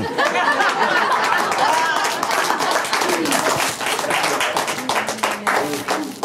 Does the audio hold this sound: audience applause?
yes